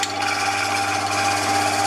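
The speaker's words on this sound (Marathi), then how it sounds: "आता मी मशीन ऑन करते।" A Softel electric home flour mill runs with a steady, loud motor whir and grinding hum that continues without a break.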